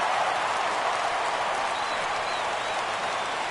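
Stadium crowd in MLB The Show 17 roaring steadily in a Phillies versus Braves game, a dense continuous wash of cheering and applause that stays loud and even throughout, with no talk over it.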